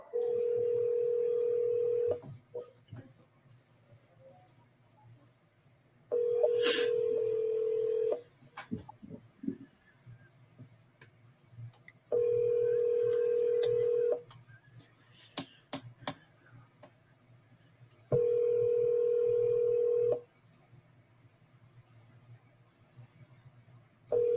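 An outgoing phone ringback tone: four long steady rings separated by pauses of silence, clear and close, with faint clicks between them.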